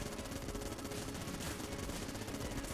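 Rapid, continuous automatic gunfire from the Vulcan Cannon in the bullet-hell game Enter the Gungeon, a dense unbroken stream of shots that fills the whole stretch with no pauses.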